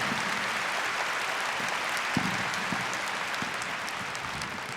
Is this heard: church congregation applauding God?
yes